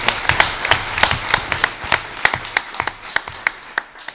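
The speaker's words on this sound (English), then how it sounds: "So big round of applause." A school board meeting audience gives a round of applause, a crowd of hands clapping in a brisk uneven patter that holds steady for several seconds and then thins out near the end.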